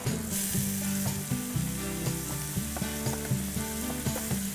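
Onion sweating in a pan with ginger, garlic and green chili for Amritsari paneer bhurji, a dense close sizzle laced with rhythmic clattering and scraping from stirring, fairly loud with no voices.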